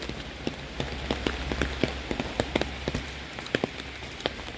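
Rain patters onto surfaces during a wet Saturday morning walk, a steady hiss punctuated by irregular close drip taps, with no one speaking.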